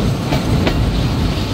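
Dhalarchar Express train pulling into Sardah Road railway station, a loud, steady, close rumble of rolling wagons with faint rhythmic wheel clatter throughout.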